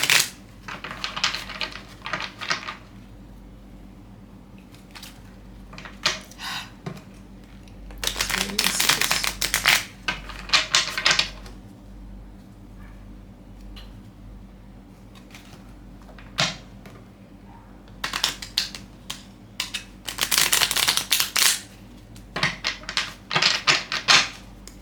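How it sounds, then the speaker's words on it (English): A stiff card deck that is hard to bend is shuffled in two separate halves, giving several quick bursts of riffling and flicking that stand out against a quiet room. "I have to shuffle this in two parts."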